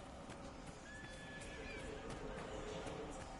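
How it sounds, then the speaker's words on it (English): Horses neighing in the video game Dragon Age Inquisition, a faint rising whinny over a steady bed of ambient game noise and hoof clatter. "I hear horses!"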